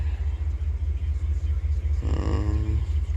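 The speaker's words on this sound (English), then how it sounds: "Truck is currently running" A 2019 RAM 1500 pickup truck engine idles with a steady, close, pulsing low rumble throughout, briefly joined by a faint higher hum partway through.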